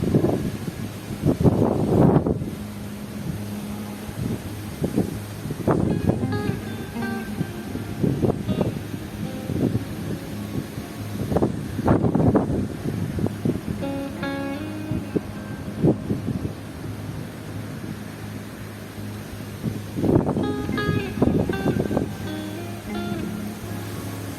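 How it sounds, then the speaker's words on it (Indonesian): Strong storm wind on a mountainside roars in repeated gusts that swell and fade over a constant windy hiss, loud and close to the microphone, with no talking. "angin kencang yang tak kunjung selesai"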